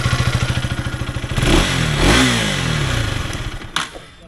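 A KTM Duke 250 motorcycle engine idles close by with a quick, even chugging pulse, then blips briefly into a rising rev before settling, ending with a light mechanical clack. No speech is heard.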